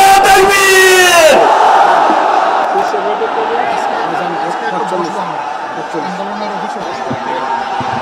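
A huge crowd at a rally in Paltan, Dhaka roars a chanted response to a Naraye Takbir call, a loud massed shout that fades into a sustained crowd murmur after an amplified voice.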